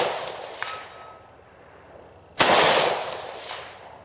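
A single loud AR rifle shot fired through a Seekins Precision ATC muzzle brake outdoors, a sharp close crack with a ringing decay, preceded by a faint small click.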